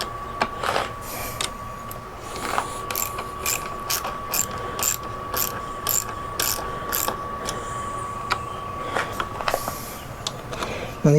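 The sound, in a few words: ratchet tightening nylock nuts on Givi top box plate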